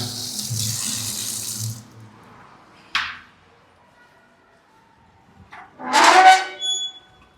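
Water runs from a tap into a stainless steel wash basin, a steady splashing stream that stops, followed by a short clank and a brief gush.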